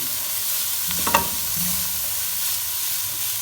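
Chicken filling for spaghetti spring rolls tossed in a hot pan with two spatulas, a continuous close sizzle with a brief clatter of utensils near the middle.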